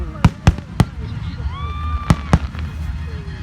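Fireworks burst at a fireworks show, about five sharp, loud booms spaced irregularly, with whistling trails between the bangs and faint crowd sounds underneath.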